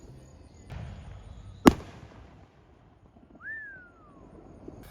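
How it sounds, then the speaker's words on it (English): Fireworks go off in a backyard: a single sharp, loud bang stands out amid faint background noise, and a thin rising-then-falling whistle follows a moment later. "Fireworks right here in the old backyard."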